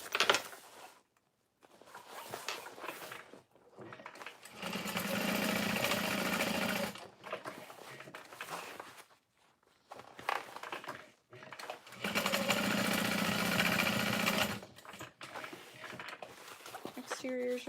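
A sewing machine stitches seams on fold-over bags in bursts of rapid whirring, each run lasting a few seconds with pauses between, while a voice talks quietly in the background.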